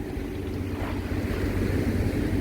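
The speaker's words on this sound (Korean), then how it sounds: "파도만 좀 높, 높아졌고요." High sea waves churning at Yeonggeumjeong on an overcast dawn, a continuous loud roar of surf and wind buffeting the microphone with no voices.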